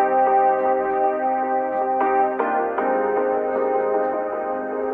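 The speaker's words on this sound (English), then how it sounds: "I turned that electric piano chord into more of a nostalgic kind of synth pad" A nostalgic synthwave synth pad made from an electric piano chord, a steady, warm sustained chord with a soft echoing tail, holding evenly for several seconds and stopping abruptly, with no voice.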